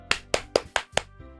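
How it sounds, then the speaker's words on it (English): Five quick sharp claps in a steady rhythm, close and distinct, followed by a softer tap, applause in the Doki Doki Literature Club video game. "I'm the first to start applauding."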